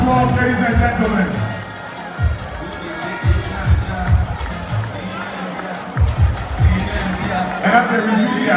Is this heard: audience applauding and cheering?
yes